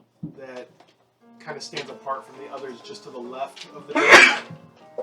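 A single sharp sneeze bursts out near the end, loud and close, right after a person speaking around a tabletop Dungeons & Dragons game.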